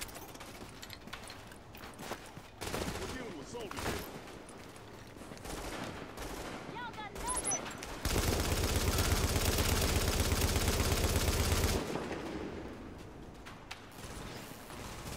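Gunfire in Tom Clancy's The Division, bursts of shots and a sustained loud automatic volley in the middle, with mechanical clicks and game ambience around it.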